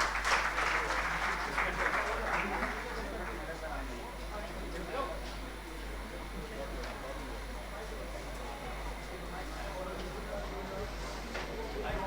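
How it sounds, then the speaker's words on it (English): Applause from the audience at a women's conference, a steady, fairly soft wash of clapping that is strongest at the start and carries on at a lower level. "that lady deserves a thunderous applause"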